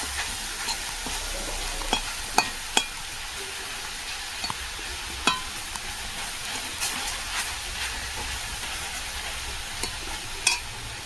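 Food fries in oil over a village cooking fire, a continuous close sizzle broken by scattered sharp clicks and scrapes of stirring, with no talking.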